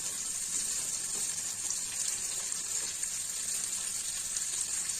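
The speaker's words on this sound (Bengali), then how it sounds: "আস্তে আস্তে মশলাটা ভাজা হচ্ছে," Raw spices frying in oil in a pan while cooking a Bengali soybean and cabbage ghonto, a steady close hiss and sizzle running without a break and without talk.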